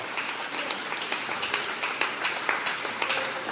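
A church congregation claps together in worship, a dense run of rhythmic palm strikes at moderate distance, with faint voices mixed underneath.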